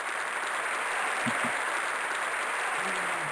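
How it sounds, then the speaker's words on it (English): A wash of applause fills a virtual university music event after a musician's performance. The clapping is steady and hissy, blended into an even roar, with a couple of brief low thumps partway through. "Let's give one last round of applause"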